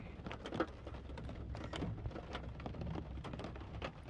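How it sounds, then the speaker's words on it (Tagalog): A sudden rain shower falls outdoors, a soft, steady patter with scattered drops, fairly faint and with no voices. "Ang ulan."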